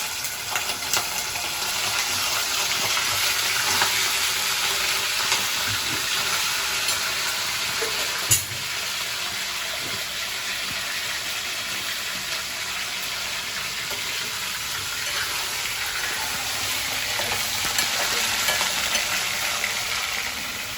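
Half a kilo of chicken frying in a pan, a steady broad sizzle running the whole time with a brief clack near the middle, close and fairly loud, with no talking.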